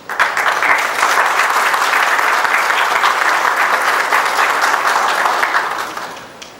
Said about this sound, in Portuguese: Ações que merecem os aplausos de todos nós.